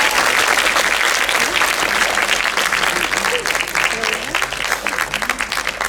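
Loud, full applause from a film festival opening ceremony crowd after a song performance, sustained and dense throughout, with murmuring voices mixed in underneath.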